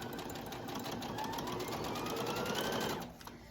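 A sewing machine runs steadily while stitching elastic onto a cloth diaper, a close, fast mechanical whir with a rhythmic needle chatter that cuts off near the end, leaving a quiet room.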